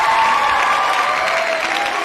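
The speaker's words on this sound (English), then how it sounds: "let's hear that virtual round of applause again" A short burst of crowd applause played as a sound effect during a live sports talk show, loud and close, with dense clapping and a faint cheer running evenly for about two seconds.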